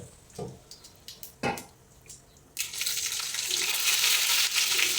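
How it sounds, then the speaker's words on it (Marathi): Mustard seeds and cumin hit hot oil for a tempering, starting a loud, bright, continuous sizzle after a few knocks and taps of a pan and spoon. "तेल गरम झालं की थोडीशी मोहरी आणि जिरे टाकून त्याला छान अशी फोडणी द्यायची आहे"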